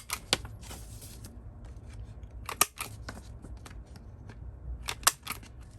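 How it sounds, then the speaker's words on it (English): A cutter rounding the corners of paper folders for a travelers notebook journal: a series of crisp, close snips and clicks in irregular clusters, with quiet pauses between them. "I'm going to go ahead and round the corners on the folders."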